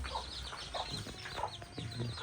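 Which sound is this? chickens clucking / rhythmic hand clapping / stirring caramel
chickens clucking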